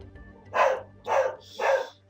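A dog barks three times in a steady rhythm, sharp, close and fairly loud, against a quiet room background.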